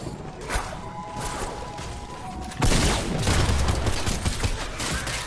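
Bursts of gunfire in Fortnite Battle Royale, a dense crackling volley that swells sharply midway and keeps rattling loudly to the end, with no talking.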